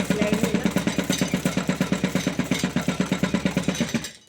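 A sewing machine runs fast on a blouse, a rapid, even mechanical chatter of stitches close by, stopping abruptly near the end.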